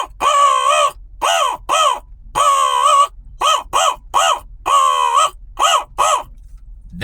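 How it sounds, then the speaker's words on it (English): A crow gives a warning call, cawing loudly and harshly, again and again, in uneven bursts of single and drawn-out calls, close by and alone. "that would be like a warning call"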